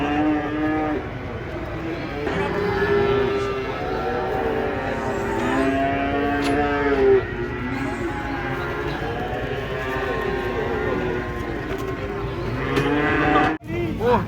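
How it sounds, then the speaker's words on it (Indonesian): Giant cattle being unloaded from a truck low loudly and repeatedly in long, drawn-out moos that carry through the whole stretch, close by and dominant over faint background noise. "Datang lagi sapi raksasanya guys."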